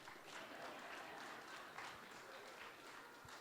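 A crowd at a talk with Robert Reich applauds steadily, dense clapping filling the whole stretch at an even level with no speech over it.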